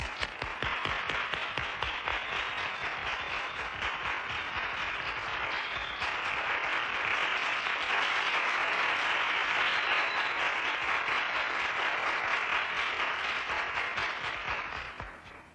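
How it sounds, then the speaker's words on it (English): Sustained, steady applause from an audience welcoming a speaker, a dense wash of clapping that stays even and fairly full for about fifteen seconds before tapering off at the end. "Let us welcome him with a warm round of applause."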